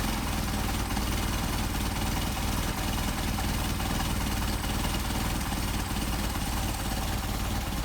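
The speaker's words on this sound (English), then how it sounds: "let's see how low the idle will go on this thing" Engine with Solex 44PHH carburetors idling low, a loud, dense, steady rumble with no break and no voices.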